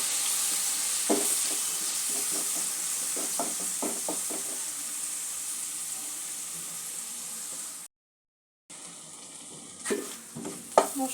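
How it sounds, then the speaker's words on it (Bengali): Spice masala fries in oil for chana dal kachori, a constant close sizzle with soft stirring scrapes; a brief cut to silence, then the sizzle resumes with a few sharper clinks of the spoon. "এই মশলাটা আমি তেলের সাথে যোগ করে দেব। মশলাটা সামান্য একটু ভেজে নেব।"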